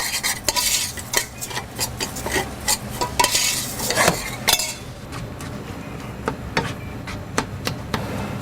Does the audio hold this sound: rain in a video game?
no